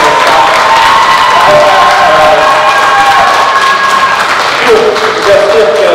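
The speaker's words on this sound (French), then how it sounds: "applaudissez-les encore" A theatre audience applauds loudly after a performance of Antigone, with dense sustained clapping and some cheering that fills the space continuously.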